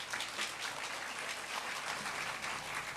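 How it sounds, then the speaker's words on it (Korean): An audience at a church mothers' prayer meeting applauds to welcome a professor to the stage, a steady dense patter of clapping held at an even level throughout. "우리 교수님 나오실 때 큰 박수로 맞이해 주십시오"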